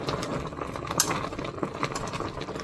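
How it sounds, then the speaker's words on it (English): Strawberries being mashed with a potato masher for compote in a pot: soft, wet squelching and pressing with occasional light metal clinks, continuous and close, with no voices. "so you want to come here with your potato masher and mash the strawberries."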